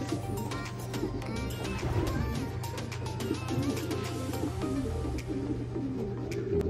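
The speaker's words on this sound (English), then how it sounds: "That's a beautiful bird." Pigeons in a loft, including a pearl-eyed bird and an Italian cock with its mate, make low cooing calls that roll on steadily at close range with no talk over them.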